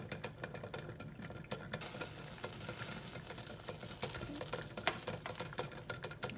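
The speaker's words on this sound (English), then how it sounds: "I'll just stir this mixture up a little bit." A spoon stirs a warm beeswax lip balm mixture with sweet orange and cinnamon oil, giving faint, repeated soft scraping and clinking taps over a quiet bubbling hiss, close by and without talk.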